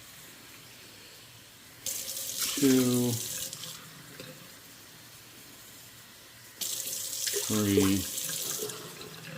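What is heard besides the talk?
tap water filling measuring cups for rice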